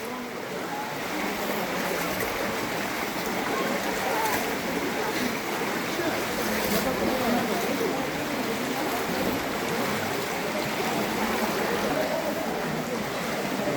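Shallow water rushes steadily through a river-eroded cave at Robber's Cave near Dehradun, a continuous splashing flow that could include footsteps wading through it, with muffled voices present.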